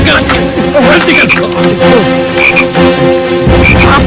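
Frogs croak loudly and repeatedly close by, with rhythmic throaty calls layered over a steady background and voices talking over part of it.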